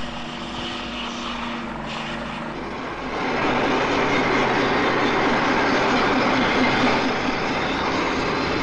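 A metro service train of 1972 runs through a tunnel at night, carrying maintenance crews. It makes a steady, heavy mechanical rumble that swells louder about a third of the way in and then holds.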